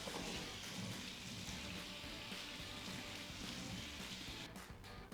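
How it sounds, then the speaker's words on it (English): Cold tap water running over fresh garden tomatoes in a strainer, a faint steady splashing rush throughout with no voices. "Run them under some cold water."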